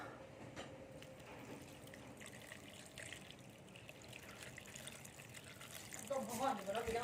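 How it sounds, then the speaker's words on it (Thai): Beef shank broth poured into a pot of cooking soup, a soft liquid trickle that grows louder toward the end, with a person speaking over it. "ใส่น้ำต้มไปเลยเนาะ"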